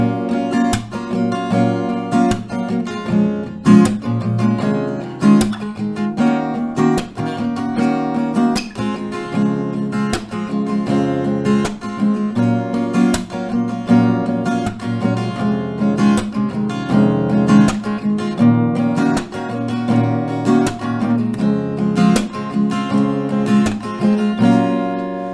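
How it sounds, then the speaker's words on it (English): Acoustic guitar strumming a steady rhythmic pattern through a chord progression, each chord taking two strum rounds, played continuously, close and fairly loud with no talking. "So a couple rounds of the strumming will sound like this."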